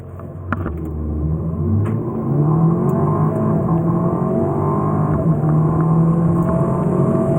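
An Audi A4 45 TFSI quattro accelerates hard, its engine note climbing steadily and growing louder over several seconds, heard close and alone.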